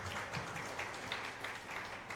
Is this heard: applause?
yes